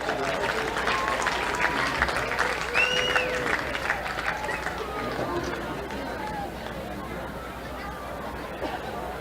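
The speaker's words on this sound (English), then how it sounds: "One more big round of applause for your 2024 homecoming court." Crowd at a high school football game applauding the homecoming court, a broad clapping wash mixed with cheering and chatter, with an announcer's voice running over it.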